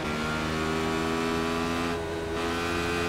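A Radical SR8 race car engine on Road Atlanta in iRacing holds a steady, loud, high-pitched drone, its tone dipping briefly as a gear changes before it climbs again.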